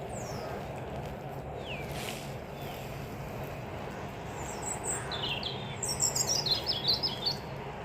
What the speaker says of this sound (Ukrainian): як красиво співають пташки.